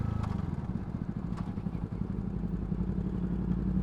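A small 125cc motorcycle rides along a country road, its engine a steady low drone that runs throughout with rumble and clatter, close and fairly loud.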